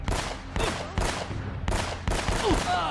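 Rapid automatic gunfire from a high fire-rate weapon in the video game Uncharted, loud dense bursts repeating in quick succession with brief breaks, clattering and echoing throughout.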